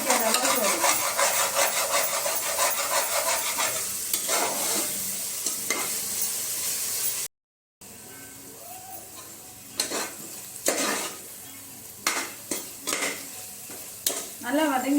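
Mint and coriander leaves sautéed in a pan for chicken biryani, a close, steady scraping stir with light sizzling, a short break, then sharper intermittent scrapes of the spatula against the pan.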